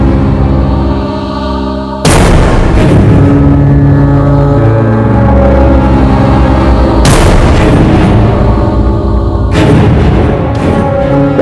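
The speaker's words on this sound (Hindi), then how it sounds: "आसपास गोली चली है" Loud booming blasts like nearby gunfire erupt in sharp bursts, two major impacts with smaller cracks after, over dense dramatic music in a Haryana crime drama scene.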